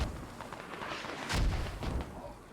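A mortar round detonating in the military shooter Squad, a dull distant boom swelling in the middle over a rumbling battlefield bed with faint thuds around it.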